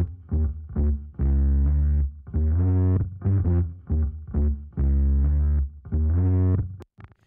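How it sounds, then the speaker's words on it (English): A heavily distorted bass plays a rhythmic riff of repeated notes, sounding wide and gritty, with short gaps between phrases and a sharp click at the end. "once I've brought the distortion out, that widening effect on the bass becomes a lot more obvious"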